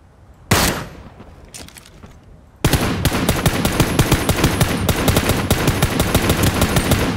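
Gunfire from a scoped gun in the video game ROE: one sharp isolated shot, then a long rapid automatic burst of evenly spaced, loud, close shots running without pause.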